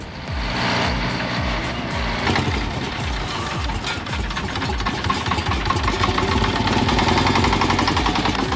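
An old Detroit diesel engine in a forestry machine roars loud and steady close by, a throbbing rumble that holds for the whole stretch with no talk over it.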